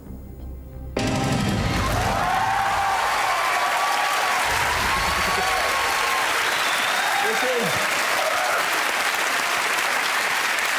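A television game show studio audience bursts into loud, steady applause after a brief quieter moment, with continuous dense clapping and faint voices underneath.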